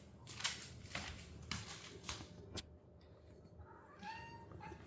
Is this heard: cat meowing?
yes